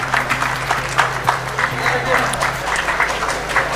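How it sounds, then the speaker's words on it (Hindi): Audience applause at a flag-hoisting ceremony on a golf ground in Dhanbad, a steady wash of clapping running throughout beneath a loudspeaker voice talking over it. "आप जोरदार तालियों से इनका उत्साहवर्धन करें"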